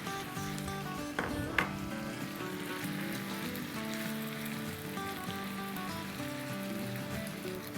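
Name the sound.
garlic and ginger frying in a pan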